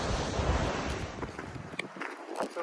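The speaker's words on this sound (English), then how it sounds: "This is the South Platte River." Water of the South Platte River rushes steadily in a broad, loud noise with wind gusts over the microphone, easing slightly toward the end with a few faint bumps.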